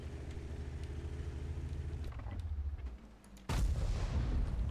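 A tank cannon fires in World of Tanks with a sudden loud boom and crackling blast that cuts through a steady engine rumble and lingers in a rough roar.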